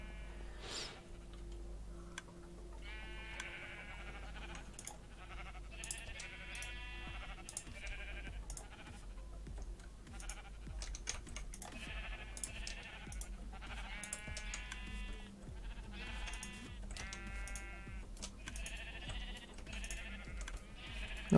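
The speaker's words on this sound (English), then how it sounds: "All these nude sheeps." Sheep bleat repeatedly on a farm in a video game, clear, fairly close calls that come in short bursts, with no talking.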